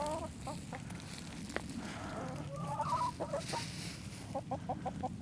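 Backyard chickens near their coop give short, faint clucks and squawks in scattered bursts over a quiet outdoor background.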